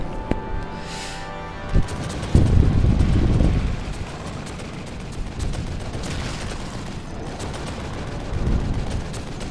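Machine gun fire in the horror video game The Evil Within on Xbox One: a short burst of rapid shots followed by heavy booming blasts and rumbling, then quieter game ambience, with no speech.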